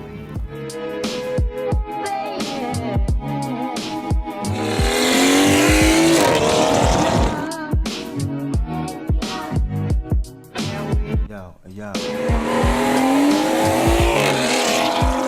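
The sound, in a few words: car with B58 engine, straight pipe and catless downpipe exhaust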